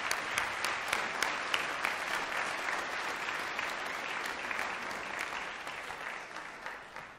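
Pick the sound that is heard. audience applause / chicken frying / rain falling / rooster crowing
audience applause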